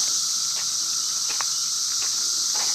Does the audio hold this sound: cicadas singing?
yes